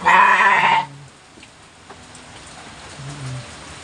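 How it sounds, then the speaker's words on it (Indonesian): A single loud bleat from a kacang goat rings out close by on a livestock farm, then the scene falls quiet except for faint background noise and a soft low call near the end. "Oh, ini kambing-kambing kacang"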